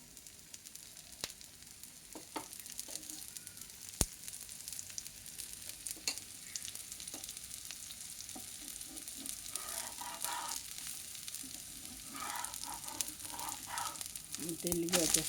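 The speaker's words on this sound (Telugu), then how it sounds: "ఇది చుట్టూతో ఆయిల్ వేసుకోవాలి." A dosa batter of moong dal and plain oats fries in oil poured around its edge, giving a steady soft sizzle with occasional crackles and a few faint clicks.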